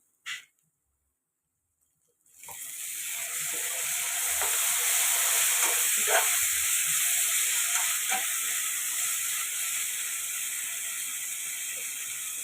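Tomato puree and ginger garlic paste fry in oil for a vanjaram fish curry. A brief click is followed by a moment of silence, then a continuous bright sizzle swells in and holds steady, close and fairly loud, with occasional soft spatters.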